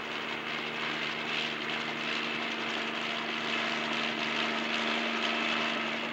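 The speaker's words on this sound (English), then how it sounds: "That chopper makes sure that the beach is clear." Helicopter flying over a beach near a missile launch facility, a steady droning engine and rotor sound at moderate distance that stays constant throughout with no talk.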